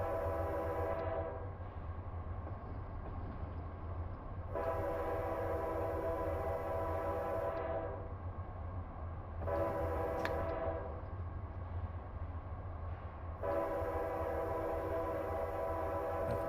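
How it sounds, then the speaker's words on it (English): Freight train rolling past a crossing, a steady low rumble of wheels and engines throughout, with long horn blasts sounding in repeated bursts, several seconds each, loud and close. "you can watch the trains going by up and down"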